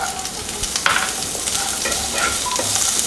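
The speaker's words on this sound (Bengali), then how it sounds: "ফুলকপিটা ভাজা ভাজা হয়ে গেছে, অনেকটা সেদ্ধ হয়ে গেছে।" Cauliflower pieces stir-fried in oil in a pan for a vegetable pulao crackle and sizzle steadily, with spatula scrapes and stirring clatter close at hand and nobody speaking.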